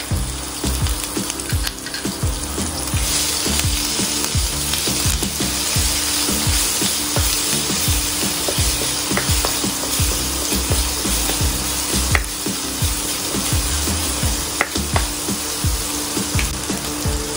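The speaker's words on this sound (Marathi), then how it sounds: "त्यात आता मी हा जो आलं व मिरची घालून पेस्ट केली आहे ती घालणार आहे" Ginger and green chili paste sizzling in hot oil in a kadhai, a steady, close frying hiss with small crackles running throughout, no talking.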